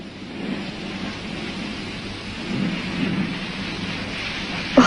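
Heavy rain pours steadily with low, rolling thunder rumbling underneath, a dense continuous wash of sound in a rural Indian village setting, no voices.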